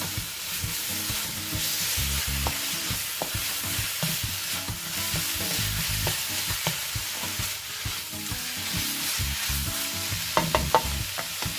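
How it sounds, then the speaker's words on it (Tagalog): Softened onion and minced chicken breast sautéing in a pan, a continuous loud sizzle with rhythmic stirring scrapes and occasional clicks of a utensil, no talking. "when the onion are soft already, then we will now put the minced chicken breast."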